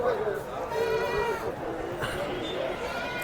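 Goats bleating in a crowded goat market in Pileru, wavering calls overlapping with background chatter.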